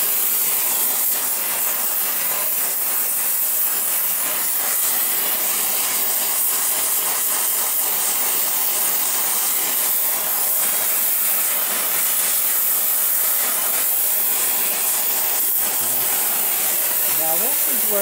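A torch burns steadily with a broad roaring hiss as it heats an exhaust manifold stud to cherry red, the flame noise continuous and close throughout with small crackles and clicks near the end.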